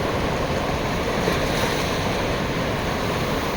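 Sea waves wash onto Marina Beach in a continuous, loud, rushing roar, with wind buffeting the microphone and no voices over it.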